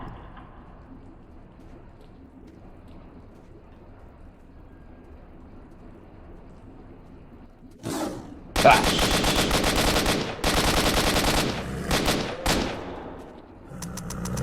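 Automatic gunfire in the video game S.T.A.L.K.E.R. Shadow of Chernobyl erupts after a quiet stretch, loud sustained bursts of rapid shots with brief gaps, near and dominant.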